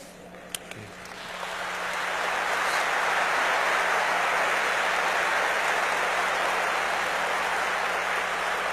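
Sustained applause from a church congregation swells up over the first two seconds and then holds as a dense, steady wash of clapping, with no voices heard above it.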